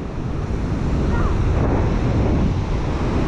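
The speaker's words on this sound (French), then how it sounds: "Mais il y a du vent aujourd'hui, plus qu'hier." Strong wind buffets a beach in Senegal where fishing boats are launched, roaring steadily over the constant wash of surf with no talk.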